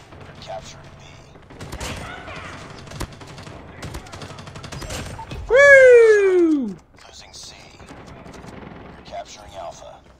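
Shotgun blasts in a shooter video game fire in rapid bursts amid busy gameplay effects, with a voice talking over the action and a loud rising-and-falling tonal sound in the middle.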